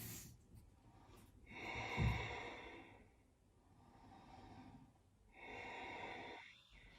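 Slow, deep breaths during a vinyasa yoga flow, with three long, airy inhales and exhales spread across a quiet room and a sharper, snort-like pull of air partway through.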